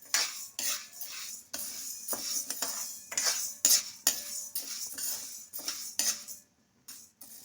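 A metal spoon scrapes and clinks against a pan as toor dal is slowly roasted on low heat, irregular close stirring strokes with brief pauses and no talk.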